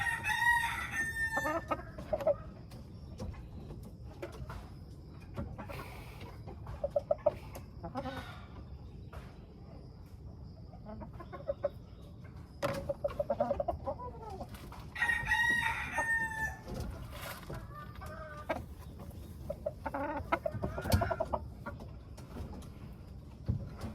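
Gamefowl including a straight black bullhen are heard in a quiet yard, with several roosters crowing at intervals, some near and some farther off, amid scattered soft clucking and other distant farm animal calls.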